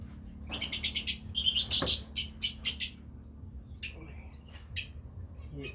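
Bursts of bright, high-pitched bird chirps come in quick clusters, then sparser calls, over a low background hum in an enclosed space.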